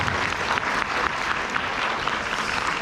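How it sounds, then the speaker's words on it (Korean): An audience at a product seminar at a resort claps in a dense, steady round of applause, many hands close and fairly loud, without talk over it. "박수 치셔드립니다."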